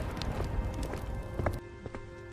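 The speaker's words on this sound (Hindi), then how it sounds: "लखन जल्दी जल्दी अपने घर की तरफ दौड़ता है" A man's running footsteps hurry homeward, a quick series of distinct thuds against a faint background hiss, with no voices.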